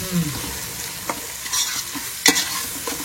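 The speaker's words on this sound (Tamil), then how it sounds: "இதோட பச்சை வாசனையா நல்லா போற அளவுக்கு வதக்கிக்கலாம்" Biryani masala sautés in hot oil for Ambur-style chicken seeraga samba biryani, with bright crackling sizzle and quick spatula scrapes and clinks close up in a short burst of stirring.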